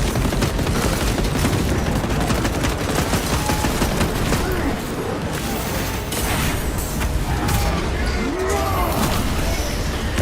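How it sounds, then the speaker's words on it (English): A frag grenade blast in Warhammer 40,000: Space Marine 2 lands amid dense, loud battle noise, with constant gunfire, booms and crashing mechanisms filling the whole stretch. "Using frag grenade."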